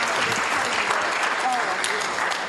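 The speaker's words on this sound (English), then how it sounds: "let's give all of them one more big round of applause." Big round of applause at a youth achievement hall of fame awards ceremony, a dense, even wash of clapping with voices and cheers mixed in.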